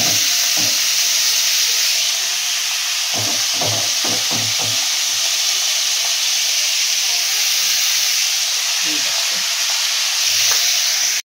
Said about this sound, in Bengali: পেঁয়াজটা ফ্রাই করতে করতে একদম সুন্দর একটা লাল লাল কালার চলে এসছে